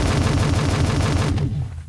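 Grenades go off in the video game Dysmantle as a loud, rapid run of blasts that stops abruptly near the end, with no talk over it.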